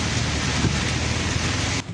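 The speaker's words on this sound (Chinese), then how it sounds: "台东暴雨不断，大雨倾盆而下" Heavy rain pours down in Taitung during a storm, a dense, steady roar of downpour that stays loud and even throughout, with no voices, before cutting off abruptly just before the end.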